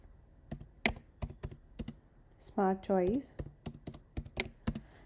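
Keys on a computer keyboard clack in irregular, quick taps, close and fairly quiet, while a voice briefly speaks over them partway through.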